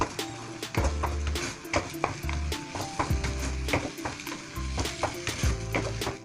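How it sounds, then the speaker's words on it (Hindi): Semolina roasting in a little ghee in a pan for suji gulab jamun, stirred with a spoon that scrapes and knocks against the metal in a repeated rhythm over a soft, continuous sizzle, close up. "इस सूजी को हम चलाते रहेंगे"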